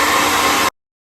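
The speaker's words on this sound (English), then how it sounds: "Now we're gonna go back in with our blow dryer." A blow dryer blasts loud, steady air while drying hair close by, then cuts off abruptly after well under a second, leaving silence.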